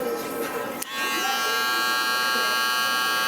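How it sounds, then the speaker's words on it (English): An electric hair clipper trims small hairs while shaping a taper fade, a loud continuous close buzz that dips for a moment as the blade moves, then holds steady. "just using the corner of the clipper, being very aware of where the other side of my blade is"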